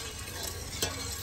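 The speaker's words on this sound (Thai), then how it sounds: "แต่ว่าเขาก็ต้องพยายามคนมันเพราะว่าเอาข้าวเบื่อลงไปแล้วมันจะเฮ็ดให้อ่ะข้าวเบื่อแข็งเนาะข้าวเบื่อติดก้นหม้อ" A rice mixture is stirred in a pot of hot oil, giving a loud continuous sizzle and frying crackle with one brief scrape of the spoon near the end.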